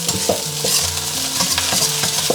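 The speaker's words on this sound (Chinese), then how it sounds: "这个米饭放上去过后，就调成最大火啊，给它快速的给它怼散" Leftover rice being stir-fried over the highest flame in a wok for crab roe fried rice, with a steady loud sizzle broken by repeated scraping and tossing of the spatula, no voices.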